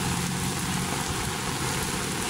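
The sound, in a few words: rain falling in Manila Bay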